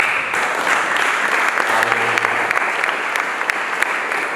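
Steady applause from a church congregation during a sermon, dense clapping sustained throughout without pause, with no voices standing out.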